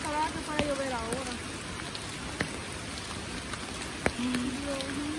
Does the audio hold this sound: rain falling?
yes